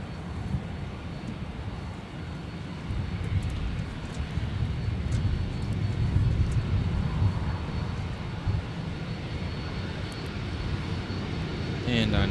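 A Sun Country airliner arriving at Minneapolis–St. Paul Airport from Dallas-Fort Worth gives a continuous distant jet roar that swells slightly and holds, with faint talk over the top.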